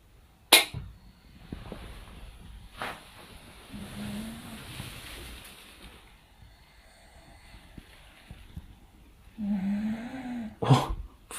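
A corgi snoring loudly indoors at night gives a few rumbling, drawn-out snores spaced several seconds apart, with sharp clicks and soft background noise between them and no talking.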